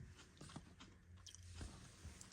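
Someone bites and chews a crunchy cocoa chocolate wafer roll inside a car, giving several quiet, brittle crunches spread over a couple of seconds at close range, with no talking.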